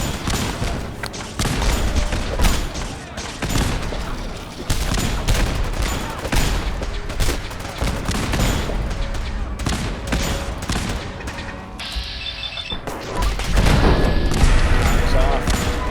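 Turret gunfire in Fallout 4, dense rapid bursts of shots crackling almost continuously at close range, with a brief lull before another heavy volley.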